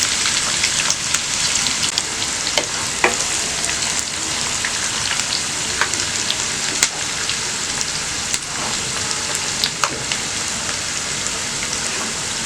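Sliced onions frying in oil in a pan for minced mutton biryani, a loud, continuous crackling sizzle with occasional sharp pops and stirring clicks.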